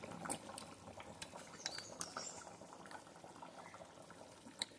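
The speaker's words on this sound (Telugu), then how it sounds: "చక్కగా మరగట్టేసింది." A pot of tamarind fish curry bubbles softly on the stove, with quiet irregular pops and small liquid blips at close range, no voices.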